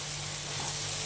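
Chopped tomato added to a vegetable masala sizzles and fries steadily in a hot pan, a continuous close hiss with no talk.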